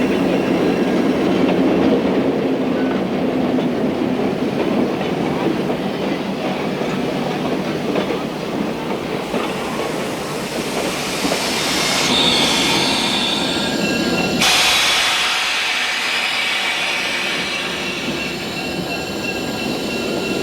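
A museum train rumbles steadily along a mile-long loop track with wheels squealing on the rails, a continuous loud clatter that shifts in tone as the cars roll on.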